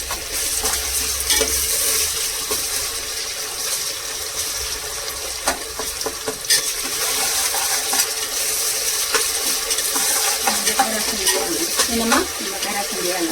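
Ginger garlic paste fries in a pan for a coconut milk chicken pulao, a constant close sizzle broken by scraping and clinking as it is stirred, with no talk over it.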